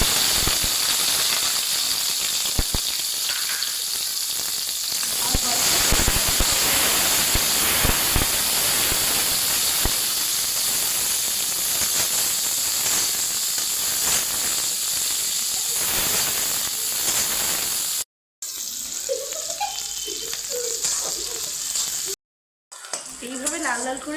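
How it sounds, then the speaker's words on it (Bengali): Chopped onions frying in hot oil with whole garam masala for a Bengali chicken and potato curry, giving a loud, steady sizzling hiss close up that runs throughout, with brief breaks near the end. "এইভাবে লাল লাল করে পেঁয়াজগুলো ভাজতে থাকবে"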